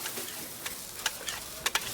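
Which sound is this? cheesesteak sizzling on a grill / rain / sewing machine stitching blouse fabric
cheesesteak sizzling on a grill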